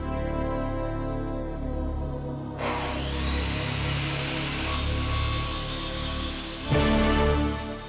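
A 10-inch Makita saw cuts wood, its motor humming before the blade bites in with a rougher, louder cutting roar, then a brief sharper surge near the end.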